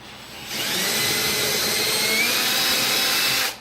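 A power drill with a 7/32-inch bit whirs loudly and steadily for about three seconds, a high grinding drone that starts abruptly and cuts off at the end.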